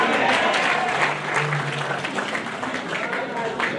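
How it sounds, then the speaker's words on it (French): A church congregation at a sixth-anniversary worship service applauds in a dense, steady wash of many hands clapping at once, with voices mixed in beneath. "Nous applaudissons bon Dieu plus fort."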